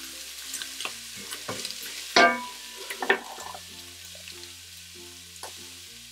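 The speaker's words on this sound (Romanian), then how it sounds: "Amestecăm foile de dafin." Beef tripe stew with bay leaves sizzles close up in a pot as a spoon stirs it, giving repeated scraping strokes and a few louder clatters over a continuous frying hiss, with soft music underneath.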